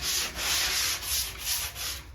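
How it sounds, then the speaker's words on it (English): Light, rhythmic sanding strokes rasp back and forth close by over dried drywall compound on a wall patch repair, about five even passes with brief dips between them. "a real light sanding over the main part of the repair to make sure it's smooth"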